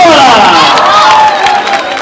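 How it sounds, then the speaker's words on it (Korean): Audience applause and cheering at a cross-dressing talent event, loud crowd noise with clapping and shouts filling the short stretch before easing slightly. "오케이, 자, 박수!"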